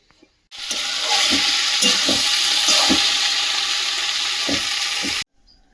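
Curry gravy with potatoes and fish bubbling in a pot, a steady close sizzling, bubbling wash with scattered soft pops, continuous for about five seconds then stopping abruptly.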